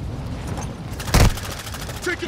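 Video game gunfire from a shooter on a tall building, one sharp close burst in the middle with fainter shots around it, under a low game background.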